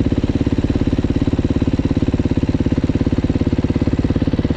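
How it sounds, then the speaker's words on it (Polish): A scooter engine runs close by with a loud, even, rapid putter that holds steady throughout. "Jest jakiś skuter,"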